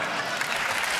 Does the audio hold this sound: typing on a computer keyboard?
no